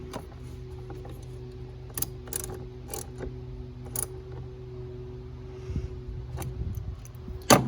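A screw is tightened on the purge valve of a 2012 Volkswagen Passat 2.5 engine, giving sparse clicking ratchet-like ticks and small metallic knocks over a low steady hum, close and without speech.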